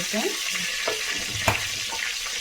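Seeds sizzling in hot oil while a fish pidupu dish is being cooked, a steady frying hiss with a sharp crackle near the middle, heard alone with no talk.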